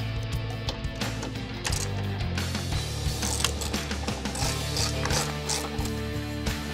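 Mechanical work under a 2022 Toyota Tundra 4x4 TRD as the factory composite skid plate comes off: a dense run of ratcheting, clicking and clattering metal tool sounds over a low steady drone, close and continuous.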